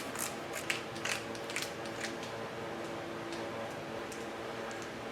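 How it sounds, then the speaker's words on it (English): A torque wrench being set to 65 foot-pounds on a small block Chevy engine, giving soft ratcheting clicks and ticks in quick uneven runs, close but quiet, over a low background hum. "So let's get our torque wrench set up."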